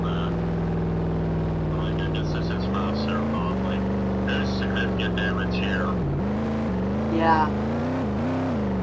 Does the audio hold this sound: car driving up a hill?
yes